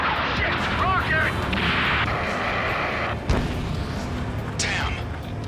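Combat in the video game Ace Combat 7: loud, continuous roaring and booms with a sharp rocket explosion burst partway through, with voices in the mix.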